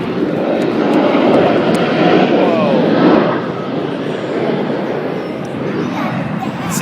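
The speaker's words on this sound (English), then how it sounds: "See, this is the best seat ever to see these planes." Airplanes fly overhead in a steady, loud broadband engine roar that swells and eases slightly over several seconds, with no voice clearly heard over it.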